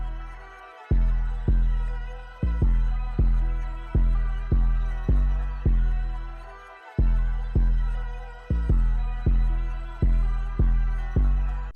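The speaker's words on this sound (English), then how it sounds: "the 808s and the samples sound like this together" Booming 808 bass hits and layered samples play together in a trap-style beat, with heavy low thumps repeating in a steady pulse and a brief drop near the middle before the pattern resumes.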